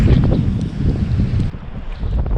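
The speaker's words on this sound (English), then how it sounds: "Another gust like that and you might be fishing me out of the lake." A strong wind gust roars across a rainy, choppy lake during winter trout fishing, buffeting the microphone with loud, rough, continuous rumbling.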